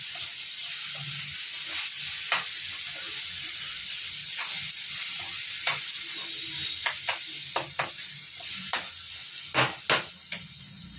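Eggs fry with cluster beans (guar) in a hot pan, Telangana style, giving a steady close sizzle and hiss broken by sharp spattering crackles and pops, with no talking.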